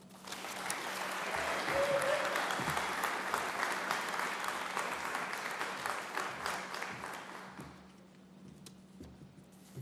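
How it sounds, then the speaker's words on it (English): Sustained applause from an outdoor crowd at a Bronx transportation announcement, steady, dense clapping for about eight seconds that fades toward the end. "Please, a big round of applause"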